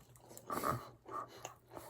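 Crunchy bites into crispy Kyochon fried chicken, three or four loud crackling chomps spaced about half a second apart, close up with no talking.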